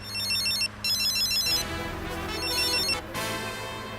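An electronic phone ringtone plays in repeated bursts of bright chiming notes against a low background hum, with no one speaking.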